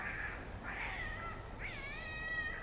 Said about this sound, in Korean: 아이고, 고양이가 오네.